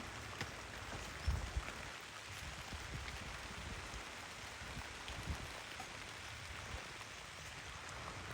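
Steady rain falling, a soft continuous hiss of drops on surfaces with a few faint thumps, no voices.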